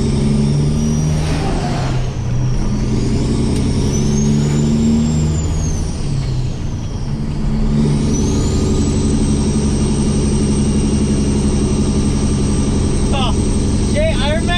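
An old Peterbilt 389 truck's engine drones steadily from inside the cab, a heavy low rumble with shifting pitch as it drives and accelerates, and a few brief squeaks and clicks near the end.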